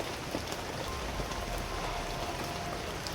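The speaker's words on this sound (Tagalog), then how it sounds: "Palaging umuulan." Steady rain falling outdoors, a continuous even patter and hiss with no talk, holding at a moderate level throughout.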